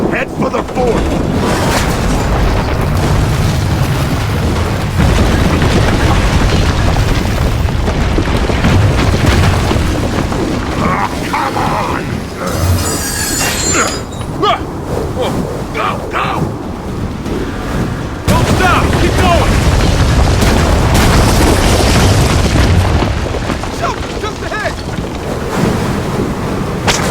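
A loud, sustained roar of wind building as a windflare storm approaches in the game Gears of War 4, with gusting surges and low rumbling, and voices calling out over it.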